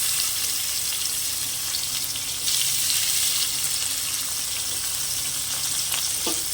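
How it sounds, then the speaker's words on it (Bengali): Bitter gourd sizzles and crackles steadily in hot oil, a constant hissing fry with occasional light stirring sounds. "এই জন্য আমি হালকা করে ভেজে নেব"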